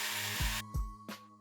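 A power drill spins while buffing the axles of a restored Matchbox No. 66A Citroën D.S. 19 diecast model car, giving a steady high whirring hum that stops and restarts in short bursts with small knocks.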